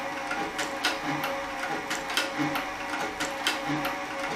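A Cowboy CB3200 leather sewing machine, a saddle and harness stitcher, runs steadily through leather, giving a close, even mechanical clatter with a regular ticking rhythm and no talk.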